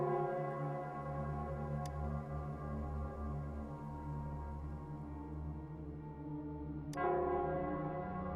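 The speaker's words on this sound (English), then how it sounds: "it's the Nell Squares bell." A large bell in Nell Square in the game Wuthering Waves tolls against a low sustained hum, with two sharp strikes several seconds apart, the second ringing out louder and fuller.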